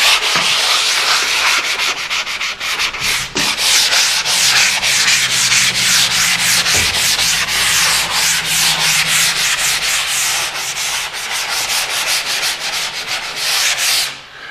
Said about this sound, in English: so while I'm sanding